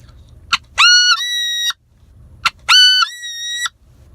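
Two clear, rising squealing calls blown on a duck call imitate a wood duck searching for others, each preceded by a short click, loud, close and evenly spaced.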